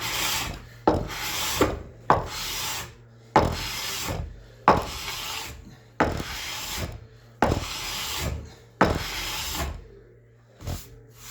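An inexpensive hand scraper rasps across a wooden joint in about nine firm, evenly spaced strokes, each a loud scratchy pass that fades before the next, close by with no talk.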